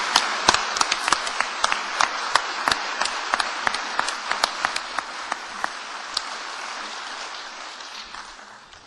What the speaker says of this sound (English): But Brian, I want everybody to give him a big applaud